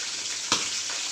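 Fish frying in a pan at home, a steady bright sizzle with one sharp louder spatter midway, close and continuous.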